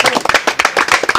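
Sharp, rapid claps from a crowd at a freestyle rap battle ring out close and loud in a quick, uneven rhythm.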